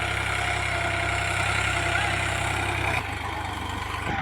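A 2012 New Holland 3630 tractor engine idles steadily with a low, throbbing rumble up close, dropping slightly in loudness near the end, with no talking.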